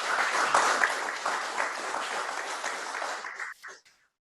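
Applause from an economic summit audience, a dense steady wash of many hands clapping for several seconds before thinning out and stopping.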